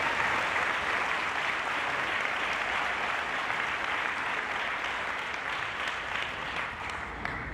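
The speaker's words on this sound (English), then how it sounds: "I would like to give us a round of applause for them right now" Sustained, even applause from a school graduation audience, a thick wash of clapping that holds steady throughout with no talk over it.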